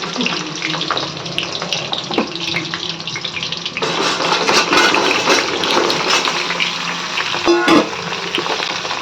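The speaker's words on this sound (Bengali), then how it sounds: "তেল গরম হয়ে গেছে এবার আমি পটলগুলো দিয়ে দেব" Pieces of pointed gourd sizzle and hiss in hot oil in a home kitchen pan, a continuous close frying crackle that swells louder partway through, with a few clinks.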